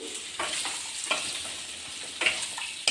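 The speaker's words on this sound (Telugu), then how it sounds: "స్టవ్ని లో ఫ్లేమ్లో పెట్టుకొని బాగా మగ్గించుకోవాలండి" Potato pieces simmer in a curry pan on a low flame, a gentle constant sizzle broken by a few sharp scrapes and clinks of a spoon stirring, close by.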